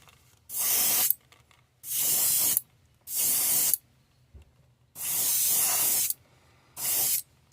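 Airbrush spraying a Createx White base coat onto an S crank, heard as five separate hissing bursts of about a second each with quiet gaps between, close and even.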